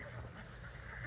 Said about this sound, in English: Look at all these ducks coming towards me.